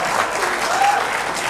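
Studio audience applause on a televised Indian political debate show, a short burst of steady clapping from a crowd, loud and continuous with no gaps.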